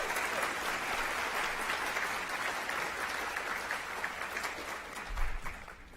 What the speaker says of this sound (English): Let's give a big round of applause to the Patton team